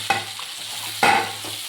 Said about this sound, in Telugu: ఇప్పుడు కరివేపాకు, టమాటా ముక్కలు కూడా వేస్తున్నానండి, పచ్చిమిరపకాయలు, కొత్తిమీర లాస్ట్లో వేస్తాను